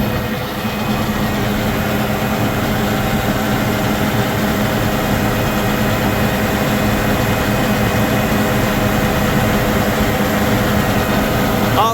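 A tractor engine runs steadily at idle with a heavy low drone and a constant level throughout, close by and without talk.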